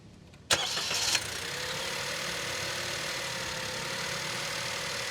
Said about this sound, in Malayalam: ഈ ഒരു എഞ്ചിൻ്റെ ശബ്ദം എങ്ങനെയാണെന്നുള്ളത് നോക്കാം നമുക്കൊന്ന് സ്റ്റാർട്ട് ചെയ്ത് നോക്കാം